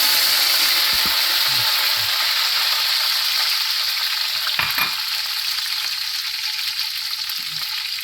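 Mustard seeds, dried red chillies and curry leaves fry in hot oil with a loud, steady, bright sizzle, plus a few soft pops and a short stirring clatter in the middle.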